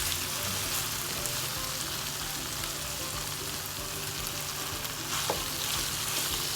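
Shrimp roast cooks in a pan, a steady soft sizzle and crackle with a few faint clinks, continuous and fairly quiet with no voices.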